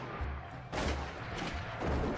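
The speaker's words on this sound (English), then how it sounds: "Then one of his supporters raised his rifle and shot one of the policemen. Both sides began firing." Rifle gunfire exchanged between two sides in a shootout between Lakota policemen and supporters, heard as a dense, distant rumble of overlapping shots and thuds with no single crisp report.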